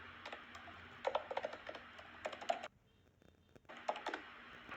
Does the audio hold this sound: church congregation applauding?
no